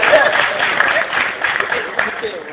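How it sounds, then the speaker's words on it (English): An audience at a university talk at Hampton University gives a round of applause, a busy wash of clapping with a few sharper claps poking through, fairly close and continuous. "Come on, let's give them a round of applause."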